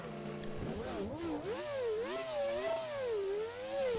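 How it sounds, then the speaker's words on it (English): A Williams FW16 V10 engine starts in a racing sim video game, cranking briefly before catching and revving up and down loudly with a rising, wavering whine, close and alone. "start the engine"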